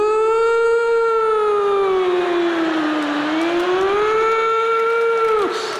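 A comedian imitates the wail of mythological sirens with a long, loud, sustained siren-like tone that dips down and rises back up before cutting off near the end.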